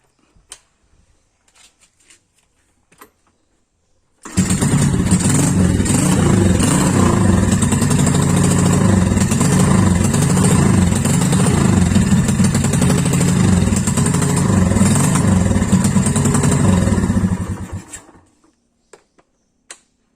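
A Honda Karisma motorcycle being modified toward a Honda C70 style starts after a carburetor fuel-flow fix and idles steadily for about thirteen seconds, a loud close putter with no talk, then cuts off.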